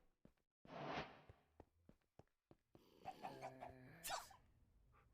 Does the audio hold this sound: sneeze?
yes